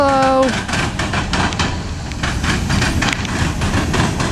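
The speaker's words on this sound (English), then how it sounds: "that was Norfolk Southern L38" A Norfolk Southern L38 local freight train rolls past nearby in Marion, Ohio, its wheels clattering over rail joints in a steady rumble after a brief horn-like tone at the start.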